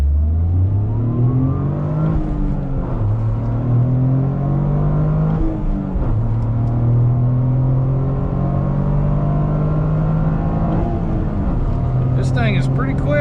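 A turbocharged 300-horsepower Toyota GR Corolla accelerates hard through several gears, its engine note climbing in repeated rising sweeps broken by shift dips, loud and close from inside the cabin.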